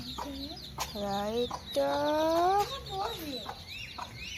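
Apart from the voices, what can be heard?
baby chickens clucking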